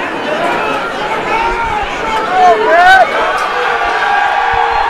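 A crowd at an amateur fighting championship event, loud chatter and cheering swelling with scattered whoops, while voices talk over it.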